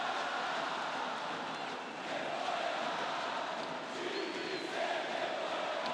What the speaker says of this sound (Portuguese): Ouça a torcida do Flamengo.